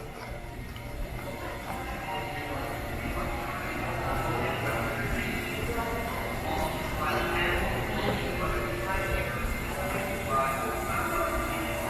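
An Amtrak train rumbles steadily past in Manhattan's Hell's Kitchen, New York City, with continuous rolling noise and a faint voice talking beneath it.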